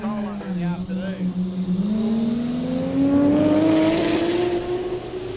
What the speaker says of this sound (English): That Supra is out of there